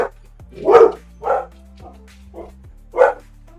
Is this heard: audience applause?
no